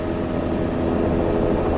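Two helicopters circle overhead on a polar bear research expedition over Hudson Bay, a loud continuous rotor and engine drone with a low throbbing rumble.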